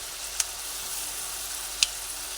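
Okra with lentil dumplings (bori) frying in a pan, a steady, soft sizzle holding evenly throughout with two brief light clicks of stirring, no voices.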